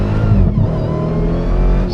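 A 2024 Dodge Demon 170 running on E85 revs hard under full-power acceleration, a loud, close engine roar that holds steady with shifting harmonic tones through the short burst, with no talking over it.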